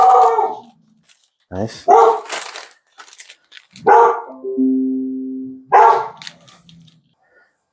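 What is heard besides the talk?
dog barking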